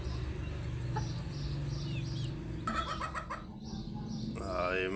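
Brahma chickens clucking and a rooster calling nearby over a steady low background hum, with scattered bird chirps; no one speaks.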